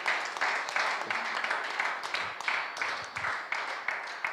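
A church congregation claps in bursts of uneven, rhythmic applause, moderately loud with a few distinct claps standing out.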